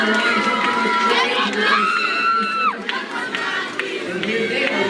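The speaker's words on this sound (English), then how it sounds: "They're cheering each other on, jumping with joy." Children cheering each other on at a Lego robotics competition, a noisy crowd of young voices shouting and whooping continuously, with an adult voice talking over the din.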